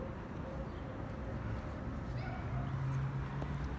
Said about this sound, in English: they let all the dogs out